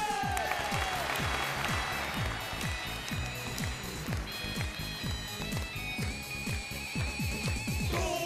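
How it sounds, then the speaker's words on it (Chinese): A studio audience claps to welcome a young male contestant onto a dating show stage, sustained dense applause under rhythmic thumping music beats throughout. "好，来，掌声有请姚大明白"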